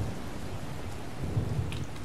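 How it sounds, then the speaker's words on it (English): Steady rain pours with low rolling thunder in a Skyrim thunderstorm near Markarth, a continuous wash of rainfall with deeper rumbles swelling partway through. "Thunderstorm's letting up."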